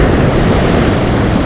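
A set of sea waves breaks along the Portuguese coast during a sea bass fishing trip, a loud, continuous surf roar washing close by with wind, no voices.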